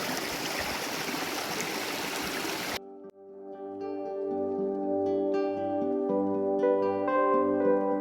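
A mountain stream rushes over rocks in a loud, steady broadband wash for a few seconds, then cuts out abruptly and gives way to unrelated tonal sound.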